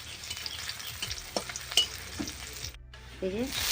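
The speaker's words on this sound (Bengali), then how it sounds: "আর শাকগুলো ভেজে নেওয়ার জন্য তেলের ওপরে দিয়ে দিলাম পেঁয়াজ আর শুকনো লঙ্কা" Onion and dried chili frying in oil in a home kitchen pan, a steady close sizzle with stirring scrapes and brief clinks, then a louder burst near the end.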